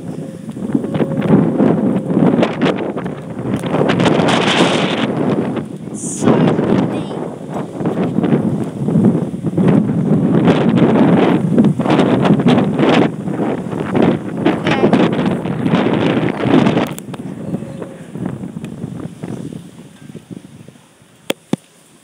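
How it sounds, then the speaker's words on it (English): Strong wind outdoors roars and buffets the microphone in heavy, uneven gusts for most of the stretch, easing off near the end. "Windy. So windy out here."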